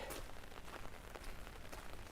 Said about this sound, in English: Tamara, welcome to rainy Helsinki.